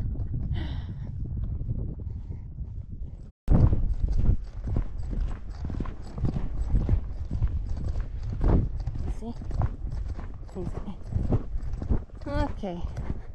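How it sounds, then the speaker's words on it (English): Horse hooves clip-clop in a steady walking rhythm close to the microphone, with some wind noise and occasional voices. "here goes the horses."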